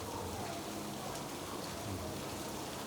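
Heavy rain falls steadily and close by, a dense, even hiss of drops hitting surfaces with no break.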